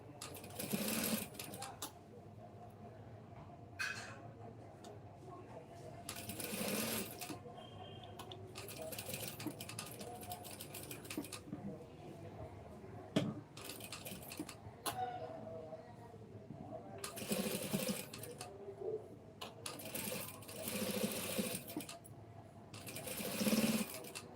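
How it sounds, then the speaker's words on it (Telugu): An electric sewing machine stitches a blouse sleeve along its joint, running in repeated rapid bursts of close, rattling stitching separated by short pauses and quieter handling sounds. "అదే జాయింట్ మీద నీట్గా స్టిచ్చింగ్ అనేది వేసుకోవాలి"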